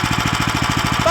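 A Lifan LF390QE Pro engine runs steadily, its rapid, even chugging pulses loud and close for about a second with no pauses.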